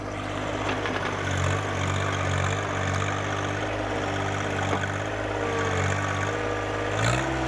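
A John Deere 1025R compact tractor engine runs steadily during road repair, a droning mechanical hum with slight throttle rises and a brief rev near the end.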